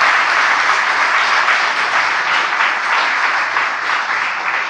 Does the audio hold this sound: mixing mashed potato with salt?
no